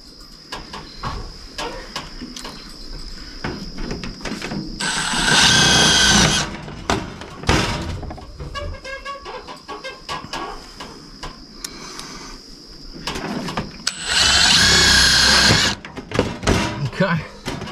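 Power drill driving screws into metal soffit on a pole barn, two loud whirring bursts of a couple of seconds each, separated by clanks, handling noises and people talking nearby.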